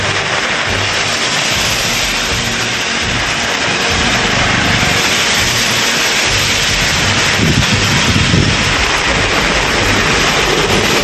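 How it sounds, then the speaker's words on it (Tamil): Heavy rain pours down in Tamil Nadu as a steady, dense, loud roar of close wash noise. It runs continuously with no clear thunder and no voices. "இடியுடன் கூடிய கனமழை பெய்தது"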